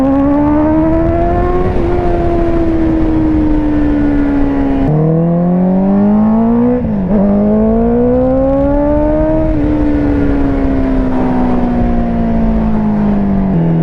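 A 2019 Honda CBR650R motorcycle with no coolant, riding past loud and near, its engine note climbing and dropping through several gear changes and high revs, with no talk over it.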